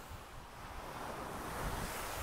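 Sea waves breaking on the Costa Brava shore in strong wind, a steady broadband roar of surf and gusting wind noise buffeting the microphone, with no voices.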